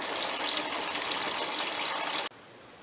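Water gushes steadily out of the radiator drain on a 2005 Hyundai Santa Fe, a loud continuous splashing pour that cuts off abruptly near the end, leaving a quiet background.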